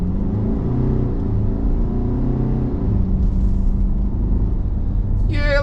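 A 2020 Mercedes X250D pickup truck's diesel engine drones and revs steadily, loud and close, its low rumble rising slightly before a brief higher whine at the end.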